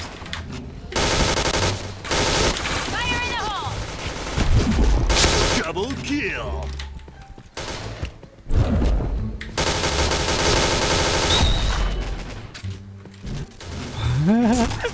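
Gunfire in the online shooter Point Blank, including an AK-style rifle fitted with explosives, fills the clip with loud, dense automatic bursts and sharp shots that barely pause.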